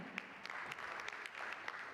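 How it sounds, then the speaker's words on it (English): An audience at a food safety panel applauds steadily for two seconds, a dense, even patter of many hands that sounds faint and somewhat distant, with no speech over it. "let's have a huge round of applause for him"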